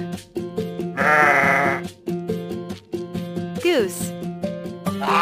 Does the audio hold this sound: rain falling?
no